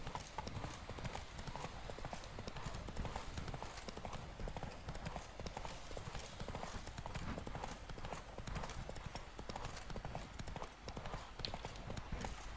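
Horse hooves gallop steadily across open country in The Witcher 3: Blood and Wine, a continuous rapid clip-clop rhythm close and prominent over ambient game sound, with a faint voice at times.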